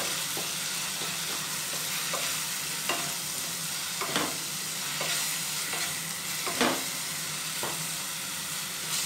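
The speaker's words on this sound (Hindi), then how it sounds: "अब इस पेस्ट को हम अच्छी तरीके से इसमें मिला देंगे।" Spice paste being stirred into a frying pan for coriander rice, giving a continuous close sizzle and hiss with occasional soft scrapes of the spoon, steady and moderately loud, with no voices.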